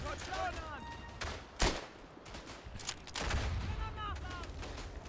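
Rifle fire in the World War I shooter game Verdun: sharp, loud shots and bursts crack over a constant battlefield din, while a voice talks underneath.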